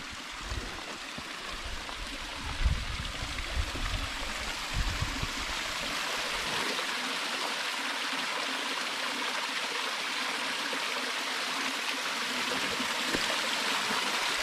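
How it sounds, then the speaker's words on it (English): Cowboy Falls in the Wichita Mountains pours in a steady, dense rush of water, close and continuous, with some low rumbling and handling noise early on before settling into an even roar. "Cowboy Falls is going nicely."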